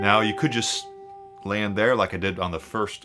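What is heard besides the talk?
No distinct noise like a dog, phone or traffic.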